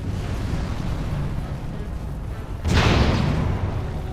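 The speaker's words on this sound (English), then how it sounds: "Who's shooting fireballs?" Fireball trap in the fantasy game Dragon Age: Origins bursting into a loud, sudden whooshing roar that swells and holds for over a second, rising out of steady ambient background.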